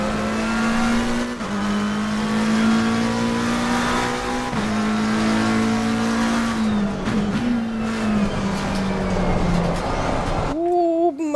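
A McLaren race car in the Assetto Corsa Evo racing game roars through a lap, its engine note climbing and dropping through gear shifts and braking toward a corner, loud and close, then cutting off abruptly near the end.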